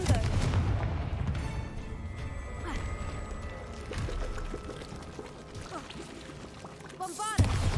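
A Confringo blasting curse goes off in the Hogwarts Legacy video game, giving a burst of crackling, rumbling blasts and debris that settles into scattered clatter, then a sharp swishing flare near the end, with a voice briefly heard.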